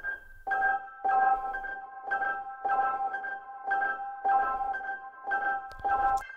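A sampled loop run through a drip delay plugin on the caliber preset with the wet mix high, for a sampled drill beat; a steady pulsing pattern of repeating tonal hits with sustained echoing tones throughout.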